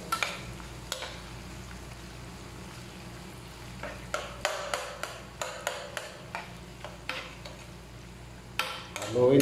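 Onions added to browned garlic and ginger for a squid curry, frying with a soft sizzle while a utensil scrapes and taps the pan in repeated clicks, with a louder clatter at the end.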